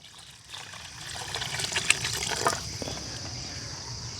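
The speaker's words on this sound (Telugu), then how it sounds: "మెత్తగా పిసుకున్న చింతపండు పులుసు కొద్దిగా నీళ్ళైతే పోసుకుందాం" Water poured into kneaded tamarind pulp for Nellore fish curry, a soft close trickle and splash that builds after a quiet start and runs steadily to the end, with a couple of small clinks along the way.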